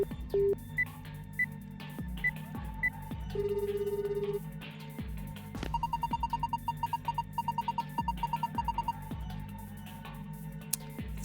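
Phone keypad dialing tones in a video game set in a retirement home, with a short run of beeps early on and then a rapid, even string of tone pulses over game music and background ambience.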